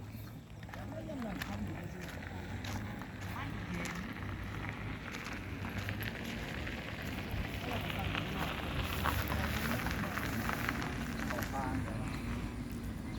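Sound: rain falling

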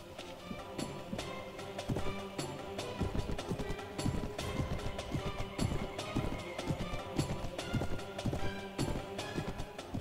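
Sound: horse galloping hooves in Mount and Blade Warband video game

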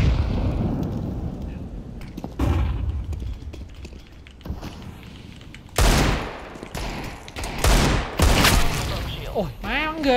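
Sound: gunfire in a video game (Counter-Strike, de_train)

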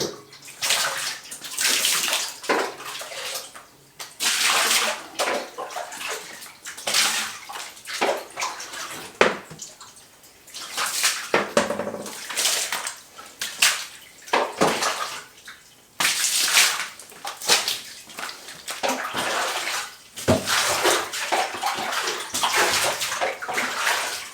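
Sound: shower head spraying clean water to rinse a bathroom

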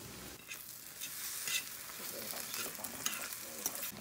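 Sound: stirring food frying in a pan on high heat

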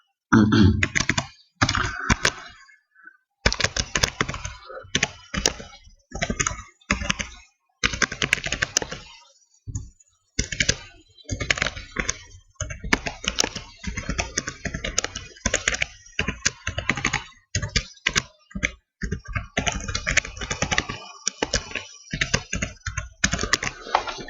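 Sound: typing on a computer keyboard to enter title text

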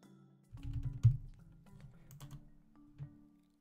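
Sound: typing on a computer keyboard in the terminal

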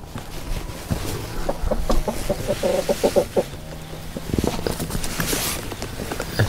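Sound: chickens clucking

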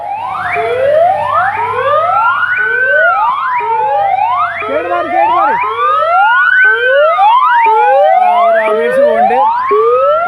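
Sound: ambulance siren

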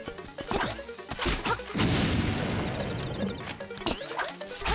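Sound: bombs exploding in the video game Zelda: Link's Awakening

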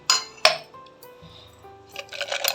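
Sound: ice stirred in a glass tumbler of thandai

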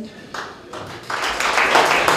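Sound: audience applause

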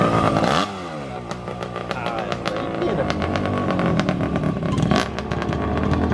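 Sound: motorcycle passing by

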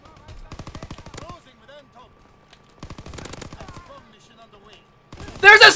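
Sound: shotgun gunfire in the video game Call of Duty WW2

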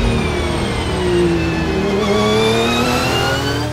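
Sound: Scribante Racing Porsche race car accelerating

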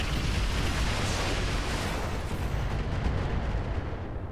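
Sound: MRM missile fire in the video game Roguetech

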